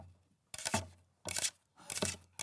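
Paper clips tapped on a cutting board to mimic a dog's claws on a floor, heard as three short bursts of rapid, dense tapping separated by brief pauses, close and fairly loud.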